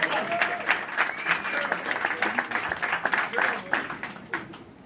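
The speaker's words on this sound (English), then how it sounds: "you could clap for that." An audience at a boxing press conference applauds, a dense burst of many hands clapping in quick irregular patter, moderately loud and sustained for several seconds before thinning out.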